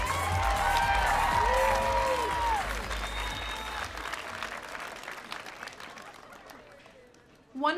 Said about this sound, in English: One more round of applause for those Apparel Construction 2 students.